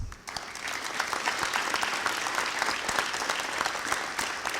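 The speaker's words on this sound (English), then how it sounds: "Would you please give your parents a round of applause?" An audience at a high school senior awards program applauds the graduating seniors' parents with sustained, dense clapping from a large crowd that fills the hall from start to finish.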